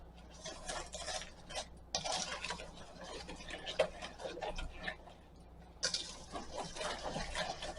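A whisk combining walnut bar filling ingredients in a bowl makes rapid, irregular clicking and scraping against the sides, close and fairly quiet, with brief pauses between bursts.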